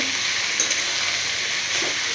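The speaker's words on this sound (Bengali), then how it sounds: "ভালো করে নাড়াচাড়া করব" Vegetables stirred and fried in a pan with salt and a little sugar for chowmein, a steady close sizzle with faint scraping of stirring and no talking.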